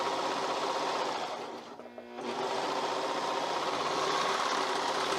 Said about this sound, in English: we're going to sew all the way up under the armpit, all the way to the cuff, all in one stitch